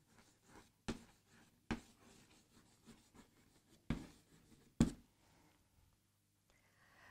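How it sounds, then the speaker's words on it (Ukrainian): Pen on notebook paper, heard as soft scratchy writing strokes with a few sharper taps where the pen lands, fairly close and quiet with no voice. "Записуємо у перший стовпчик."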